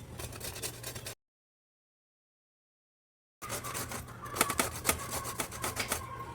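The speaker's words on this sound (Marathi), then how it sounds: "अशा पद्धतीने किस पडतोय तर असा सगळा किसून घेणार" Peeled bottle gourd rubbed against a grater for thalipeeth, giving close rhythmic rasping strokes; a gap of silence falls partway through before the scraping resumes.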